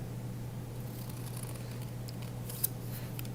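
Scissors snipping through folded paper while cutting out a shape for a flower-carpet design, faint close crisp cuts with a few soft clicks, the sharpest snip standing out briefly against a low steady hum.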